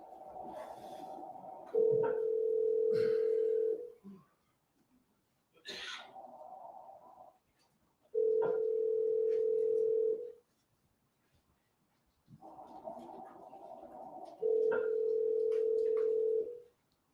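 A recorded phone call rings out toward voicemail: three long steady ringback tones spaced evenly apart, each preceded by a softer burst of line noise, with short silent gaps between them.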